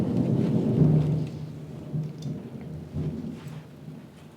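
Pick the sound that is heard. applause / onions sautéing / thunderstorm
thunderstorm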